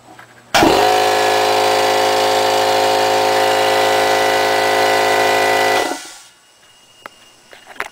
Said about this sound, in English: you hook the whole thing up to the compressor, stick it good and tight right onto the pipe, and turn it on